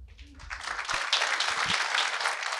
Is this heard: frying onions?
no